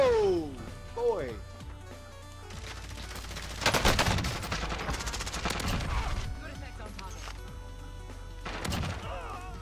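Bursts of automatic gunfire in the video game Warzone, with one dense volley and several scattered shorter rattles, loud and close, mixed with game effects and no talk.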